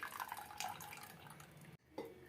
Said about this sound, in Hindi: अब हमें इसमें नॉर्मल पानी डाल के धोना है